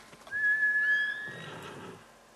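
A horse in the Ghost of Tsushima video game gives a loud, close whinny lasting about a second, a high trilling neigh that drops into a breathier snort, alone without talk.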